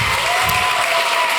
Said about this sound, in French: Est-ce qu'on peut l'applaudir chaleureusement,